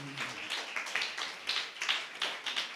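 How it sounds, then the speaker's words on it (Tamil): A church congregation claps together in quick, fairly even bursts, sharp and moderately close, with no talk over it. "நல்ல கைத்தட்டி ஆண்டவருக்கு நன்றி சொல்லுங்களேன்"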